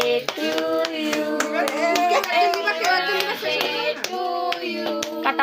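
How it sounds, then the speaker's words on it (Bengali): Guests clap at a child's birthday cake cutting, a small group keeping a steady rhythmic beat beneath loud singing voices throughout. "সবাই হাততালি দিবি"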